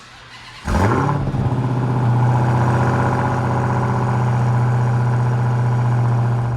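A Dodge Hellcat's supercharged V8 cold starts with a sharp crank and roaring flare, then settles into a loud, steady, deep idle heard up close.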